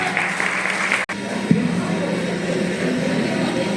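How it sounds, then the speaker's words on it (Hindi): Loud, steady applause from a college program audience fills the space, dense and continuous with a brief dip partway through. "बहुत जोरदार तालियां हो जाएगी।"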